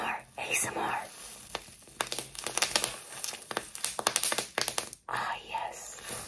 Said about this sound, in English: There was bubble wrap.